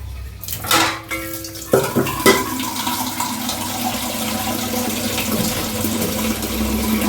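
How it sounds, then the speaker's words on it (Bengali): Water pours and splashes into a metal pot for boiling papaya, with clinks of utensils and a pan being set down before a steady running flow. "একটু পানি দিয়ে দিই।"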